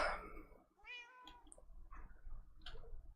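Frida, a cat, lets out a drawn-out rising meow followed by a few shorter, quieter mews, close and fairly soft in a quiet room.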